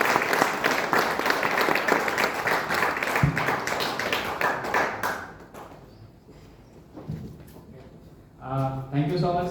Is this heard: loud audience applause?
yes